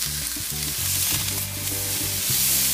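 Boerewors sausage sizzles at high temperature as it cooks. A continuous crackling fry sits over a low droning hum, close and steady, with no speech.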